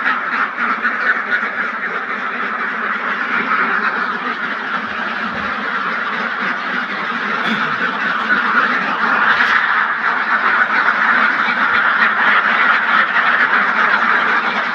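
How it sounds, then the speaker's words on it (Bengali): A flock of thirsty ducks clamoring in the morning, loud continuous overlapping quacks from many birds close at hand, sustained without a break for the whole stretch. "তো হাঁসগুলো সকাল সকাল চেঁচামেচি শুরু করেছে"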